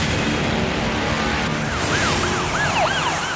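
An ambulance siren wails in rising and falling sweeps that come in partway through, under a loud, steady rumble of traffic and road noise, with no talk.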